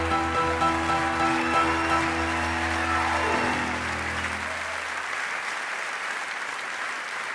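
Audience applause rises broadly at the close of a song at a live comedy and music show, with the music's final held tones fading out beneath it in the first seconds, then dense, steady clapping carrying on alone.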